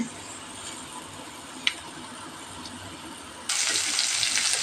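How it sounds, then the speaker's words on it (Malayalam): Half a teaspoon of mustard seeds hitting hot coconut oil in a pan while okra stir-fry is made, a steady soft hiss that jumps into a louder, brighter sizzle partway through, with no talking. "ഒരു അര ടീസ്പൂൺ കടുക് ഒഴിക്കുന്നുണ്ട്."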